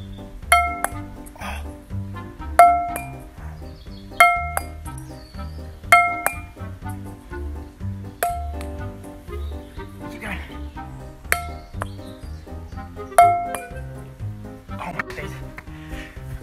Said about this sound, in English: How many times did it hit the glass then?